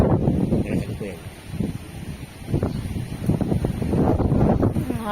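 Strong wind buffets the microphone in a continuous low roar, with voices talking faintly underneath.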